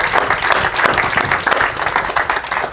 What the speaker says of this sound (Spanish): Démosle a Dios un aplauso y a Él sea la gloria.